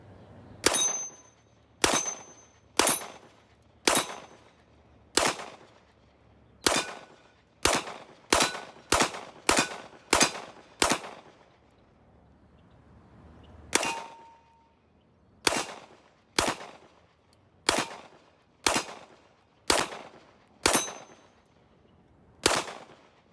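A Sig Sauer P226 Elite Stainless pistol fires about twenty sharp, loud shots in irregular strings, some rapid and some spaced, each with a short ringing tail, with a brief pause midway.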